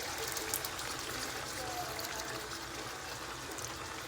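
Chopped tomatoes pour from a tin into a Carolina Reaper chilli curry in a steady wet trickling stream, close and continuous for several seconds, with no one talking.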